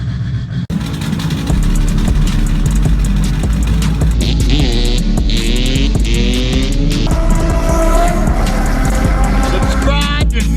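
A Duramax LBZ diesel engine cold-starts without glow plugs, catching after a short crank and settling into a loud, steady, throbbing rumble that stays close throughout.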